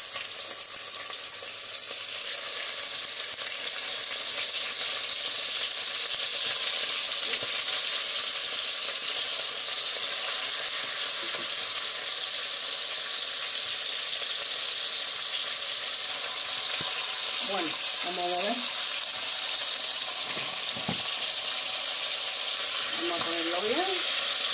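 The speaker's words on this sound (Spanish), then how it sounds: "Vamos friendo y cuando lo doremos bien, lo sacamos." Steady broadband sizzle of rabbit meat frying in a hot pan, continuous throughout, with a few faint clinks and brief voice fragments near the end.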